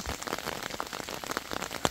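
Heavy rain patters in a European forest, close drops tapping on leaves and a waterproof jacket in a dense, irregular spatter.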